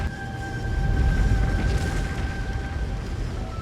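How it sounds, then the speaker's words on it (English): A cabin exploding in the video game Slay the Princess: a loud, sustained low rumbling boom with debris-like crackle, holding steady for several seconds with a faint tonal hum above it and no speech. "As you step forward, the cabin explodes."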